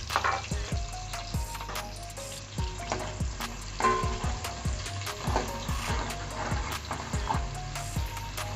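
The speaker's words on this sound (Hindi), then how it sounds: "अब हम इसमें प्याज डालने हैं। इसको अब हमने लाइट ब्राउन करना है।" Onions sizzle and fry steadily in a hot pan, with repeated clicks and scrapes from stirring throughout, all fairly quiet and close with no talking.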